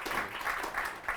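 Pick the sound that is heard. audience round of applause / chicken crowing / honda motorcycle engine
audience round of applause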